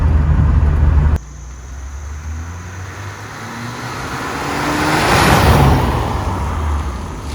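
A BMW E30 on the move produces a steady rumble of engine and road noise from inside the cabin, swelling briefly as it accelerates and then settling back.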